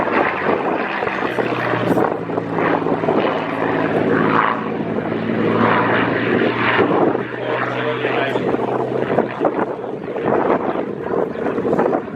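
Aircraft flying at an air show, a continuous engine and propeller drone passing overhead, loud and steady with wind buffeting on the microphone and people talking over it.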